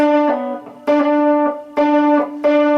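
Distorted electric guitar rings out in four sustained, buzzy chords, each struck sharply and let ring briefly before the next.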